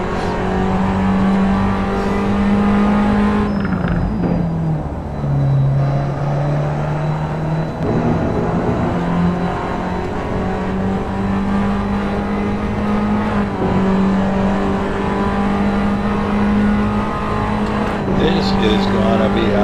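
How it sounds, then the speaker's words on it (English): A race car engine banging off the rev limiter at the end of the Moraine sweep during a racing event, a loud sustained engine drone that stutters and dips at the limiter, with commentators talking over it. "they're banging off that rev limiter down there at the end of the Moraine sweep"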